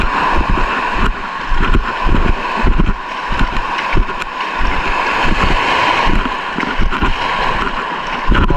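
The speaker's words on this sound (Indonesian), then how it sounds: "Angin ke arah kita." Wind gusts steadily across an open fishing spot in poor weather, a constant rushing roar buffeting the microphone with irregular low thumps and no voices.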